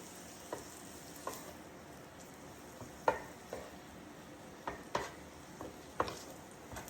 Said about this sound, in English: the onions, the mushrooms, the ribeye. Just tossing it all together with all the seasonings that we put on it